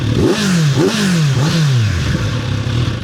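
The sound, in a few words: Kawasaki Z900RS 948cc four-cylinder motorcycle exhaust revving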